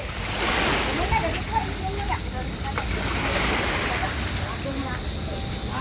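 Waves wash steadily against a seaside port at Panabo pier, a broad continuous surf rush with some wind, while people talk nearby.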